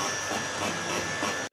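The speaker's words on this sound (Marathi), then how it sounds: "ही ट्रेन आली आहे खोपोली" A Karjat local train pulls into Khopoli station with a continuous loud rumble and hiss of wheels and carriages, cutting off abruptly at the end.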